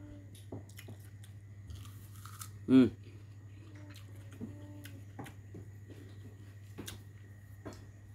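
Someone bites into a crunchy Phetsamran wax apple and keeps chewing, with one sharp crisp crunch followed by softer wet chewing clicks against a low steady hum.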